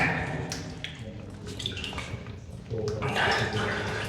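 Wading through deep water in a flooded tunnel beneath a former airport, with sloshing and splashing from close by, growing louder near the end.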